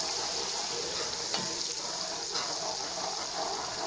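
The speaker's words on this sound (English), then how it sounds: "I'm cooking on high heat, so I'm going to fry this for 2 minutes" Chopped onion frying on high heat in a pot for peanut soup, a steady, close, dense sizzle that holds evenly throughout with a few faint stirring touches.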